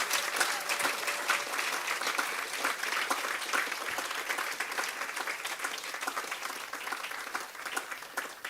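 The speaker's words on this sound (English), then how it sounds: "I would like you to applaud all of the long-listed books and authors," Audience at a literary prize announcement ceremony claps for the long-listed books and authors, sustained, busy applause with sharp individual claps standing out across the whole stretch.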